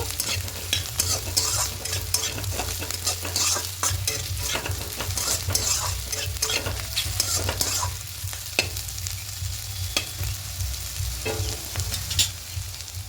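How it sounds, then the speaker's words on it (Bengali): Bitter gourd and potato frying with poppy seeds in a pan, a steady sizzle under frequent scraping and clicking stirs throughout. "এবার এখানে একটু পোস্ত দিয়ে দেব দিয়ে আবারও ভালো করে একটু ভেজে নেব"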